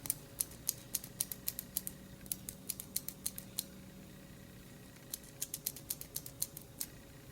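A pen or pencil mechanism clicked repeatedly by hand, sharp close clicks in quick bursts of several, a pause, then another run of clicks, with a steady faint hum beneath.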